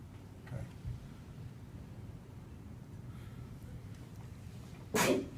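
A single sharp sneeze bursts out near the end, loud and close, after a quiet stretch of low room noise.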